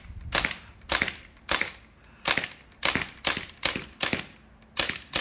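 Umarex Thompson M1A1 CO2 BB submachine gun fired outdoors, nine sharp snapping shots in quick uneven succession, each a crisp pop with a short decay, loud and close with no voices.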